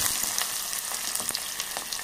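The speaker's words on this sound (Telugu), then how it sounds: "ఇవన్నీ బాగా ఫ్రై అయ్యేంత వరకు మనం కలుపుకోవాలి" Mustard seeds, cumin, curry leaves and chopped onions fry in a pan for majjiga pulusu, giving a dense, steady crackling sizzle up close with a few light stirring scrapes mixed in and no voices.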